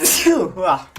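A single short sneeze bursts out at close range, breathy and sharp, followed by a brief trailing voiced sound.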